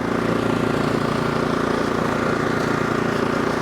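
Ariens Deluxe 24 snowblower with the AX engine running in gear at transport speed, a steady close, loud putter of a small single-cylinder motor with a constant even rhythm.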